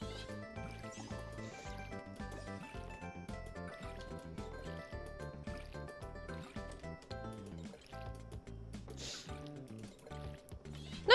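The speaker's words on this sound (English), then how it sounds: "And then we'll water." A watering can pours over crops in the farming game Fields of Mistria, giving soft trickling, splashing water sounds over continuous, rhythmic background game music.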